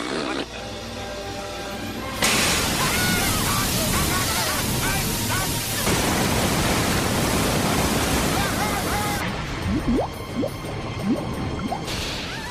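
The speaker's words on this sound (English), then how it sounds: "we filmed this whole scene with a waterfall of water going down the stairs and everything" A waterfall of water cascading down a staircase in a Home Alone 4 scene makes a loud, dense rushing wash that lasts several seconds, with squishy splashes. Voices talk before and after it.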